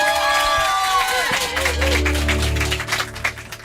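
An audience at a French music event cheers and applauds as the singer is welcomed, a loud, dense crowd roar mixed with music and a voice over it.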